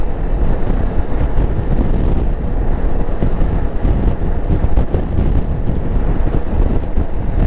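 Wind roars across a motorcycle rider on the road in a steady, loud, close buffeting rumble that never lets up, with no one talking.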